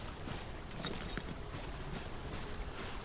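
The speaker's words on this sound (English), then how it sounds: "Did I hear horses' hooves?" Horse hooves clip-clop faintly in the Outlaws of the Old West game, a quiet, irregular patter of steps beneath steady background noise, no voices.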